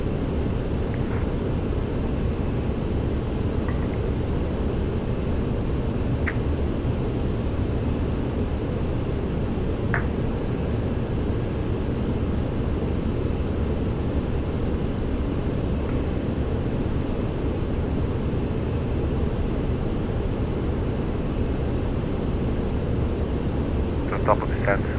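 Steady, even cabin drone of a TFDi Design MD-11 airliner cruising on a long-haul Montreal to Rome flight in Microsoft Flight Simulator, continuous and unchanging throughout with only a few faint clicks.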